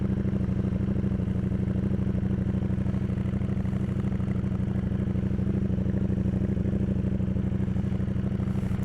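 Motorcycle engine running steadily with a low, even exhaust drone, a constant throbbing rumble with no clear revving changes, close and loud throughout.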